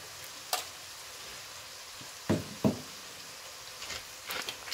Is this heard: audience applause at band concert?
no